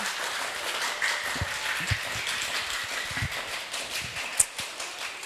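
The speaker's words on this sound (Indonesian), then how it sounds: "Tepuk tangan dulu untuk kalian semua" Audience applause at a school literacy talk during a language-month event, a sustained, fairly soft clatter of many hands with scattered sharper claps and no voices on top.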